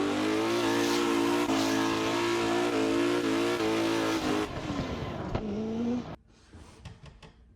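Drift cars at a drift competition, one a Nissan S13, roar with sustained high revs and tire squeal, loud and close, before the engine note drops and cuts off to quieter background.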